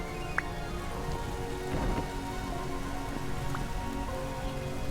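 Steady rain falling in the survival video game Vintage Story, a dense continuous patter of drops heard alone at an even level with no talk over it.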